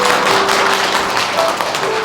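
Audience at a lecture clapping to welcome a professor, a short steady wash of applause from many hands, fairly loud and sustained throughout.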